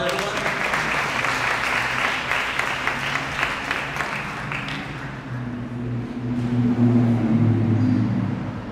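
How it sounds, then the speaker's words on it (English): An audience applauds a speaker stepping to a podium at a Haitian Flag Day keynote event, a dense burst of clapping that fades over several seconds into murmuring and background room noise. "Give her a round of applause, everyone."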